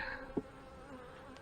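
Honey bees drone in a steady, faint buzz as a hive is opened for inspection, with a single soft knock near the start.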